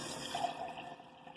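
Water runs into a cooking pot of collard greens, a short close splashing pour with a bright gurgle.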